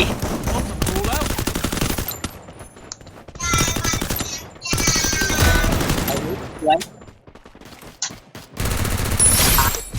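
Shotgun and other gunfire roar in a PS4 multiplayer shooter game: dense, loud volleys of rapid shots in several long bursts separated by brief lulls.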